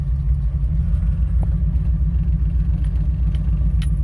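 Engine fitted with an Offenhauser dual port intake idling at 1500 RPM, a steady, loud, low rumbling drone with an even rhythm, heard close up with no talking.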